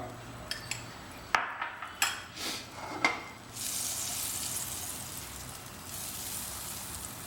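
Butter heating in a hot pan for a chicken Schezwan sizzler: a few metal clinks and knocks against the pan, then a steady soft sizzle and hiss that continues to the end, with no talking.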